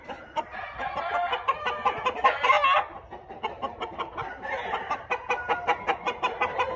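Several Asil roosters cluck and squawk close by in a busy, uneven chatter, with short bursts and rapid repeated calls.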